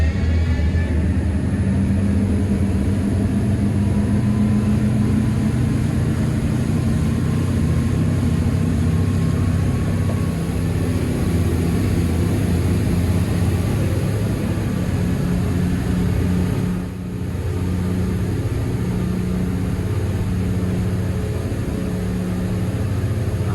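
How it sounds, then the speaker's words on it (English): Twin Volvo Penta D6 400 hp diesels drive a Cranchi M44 HT motor yacht at full throttle, planing into the wind at about 32 knots, with a steady, loud low roar and rushing wind and water hiss throughout, barely changing. "We've got a full throttle acceleration on the plane here."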